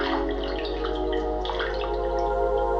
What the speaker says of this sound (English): I do like how the water is more subtle in this.